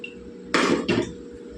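Green chilies are dropped into a pot of tomato prawn curry, giving two quick clattering metallic knocks against the pot over a low background hum.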